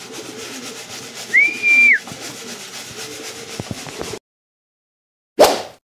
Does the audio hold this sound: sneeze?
no